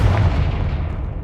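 A Confringo spell explodes in Hogwarts Legacy, a single close, booming blast that rumbles and fades.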